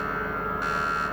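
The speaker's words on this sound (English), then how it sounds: "I'm just turning on the emergency alert system, because why not?" Emergency alert system alarm in the video game PROJECT.FREDDY, a steady, loud electronic buzzing tone held without a break, with no talking.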